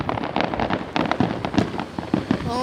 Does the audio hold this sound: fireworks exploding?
yes